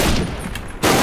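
Rapid gunfire from a minigun in a shooter video game, Disposable Heroes, rattling as a loud continuous burst that dips briefly and then surges back at full strength.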